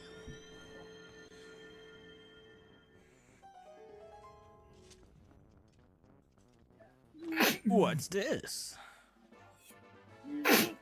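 A video game character sneezes loudly, close up, in two sharp explosive bursts a few seconds apart, following a stretch of tonal electronic game music, with someone speaking briefly.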